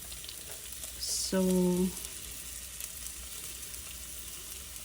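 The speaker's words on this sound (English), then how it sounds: "we will add the onions. And let the onions sweat a bit." Onions sweating in a pan for Punjabi chole give off a soft, steady sizzle, with a brief clink of a utensil partway through.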